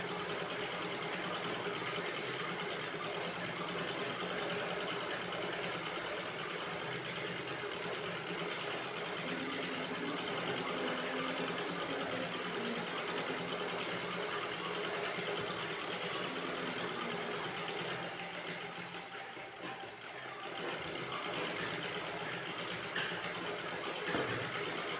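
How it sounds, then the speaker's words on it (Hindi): A sewing machine stitches the neckline of a net fabric blouse, running as a steady, close, continuous mechanical whir for the whole stretch with only a slight dip near the end. "तो चलिए हम यहाँ से स्टिच करते हैं।"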